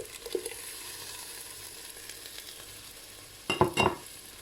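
Blended peeled tomatoes mixed with crushed canned tomato hit a hot pot of Moroccan harira soup with a brief, loud burst of sizzling and splashing near the end, after a quiet stretch of faint simmering.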